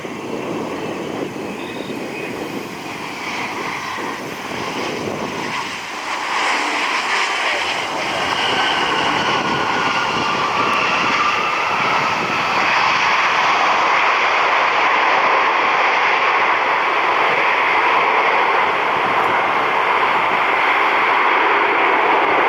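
A CRJ regional jet at Cleveland airport rumbles from afar with a broad, steady jet roar that swells louder as it nears and holds, with no voices.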